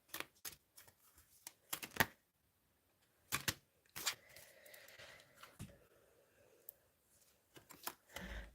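A thin, soft deck of cards being shuffled by hand, quiet bursts of flicking and riffling with short pauses and gaps between attempts, close to the microphone.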